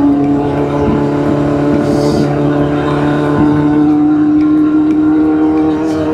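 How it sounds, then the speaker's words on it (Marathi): A Kawasaki Z800 motorcycle engine runs with a steady, loud, close hum rich in overtones and faint rises in revs, holding its tone for several seconds with no talk over it. "40-50 ला भारी आवाज करते गाडी. लविंग साऊंड आहे लविंग."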